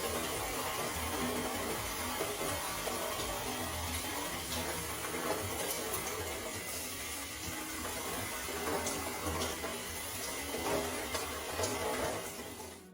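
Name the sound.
shower water rinsing hair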